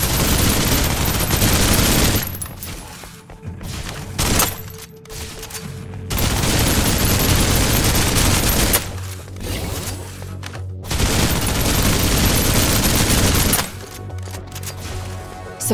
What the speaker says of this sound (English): Suppressive fire.